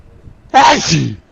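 A single loud, close sneeze bursts out abruptly and trails off over about half a second.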